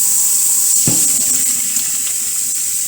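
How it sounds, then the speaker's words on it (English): Tap water runs steadily into a sink while rice is washed, a continuous close bright splashing hiss with one brief dull knock partway through and no speech. "I wash my rice"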